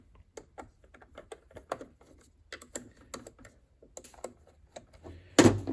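A T15 Torx driver turns screws out of a Milwaukee sander's plastic housing, giving a run of small, close, dry clicks and ratcheting ticks in an irregular rhythm, ending with a louder clatter, no talking.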